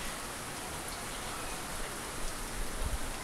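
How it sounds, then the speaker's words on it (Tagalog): Continuous typhoon rain pours steadily in Marikina, a dense, even hiss of drops striking surfaces close by, with a few heavier patter bursts near the end and no voices. "tuloy-tuloy pa rin ang pag-ulan"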